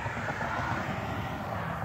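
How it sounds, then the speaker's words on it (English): A 1974 Chevy Corvette convertible with a 350 V8 and four-speed idles in a low, steady rumble, running continuously with no voices. "Car sounds a little better than stock."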